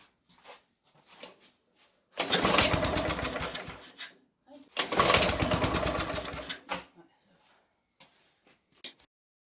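Old lawn mower engine running after being restarted: two bursts of loud, close, rattling single-cylinder chatter of a few seconds each, separated by quiet stretches with faint talk and handling noises.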